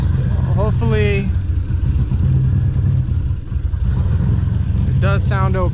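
A turbocharged Nissan Z31 idles with a steady low exhaust rumble throughout, as someone talks briefly at the start and again near the end.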